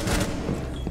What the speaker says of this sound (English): They just shot this guy, bro.